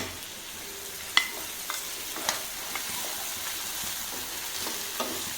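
Whole spices, bay leaf, cardamom, cumin, pepper, cinnamon and cloves, frying in oil for prawn masala, giving a soft steady sizzle with occasional stirring clicks against the pan.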